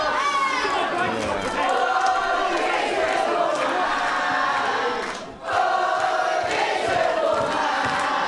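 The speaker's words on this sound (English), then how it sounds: "You can hear the relief in the crowd here." A wrestling show crowd murmurs and cheers in relief as a broad wash of arena noise, with commentators talking over it throughout and a brief dip in volume partway.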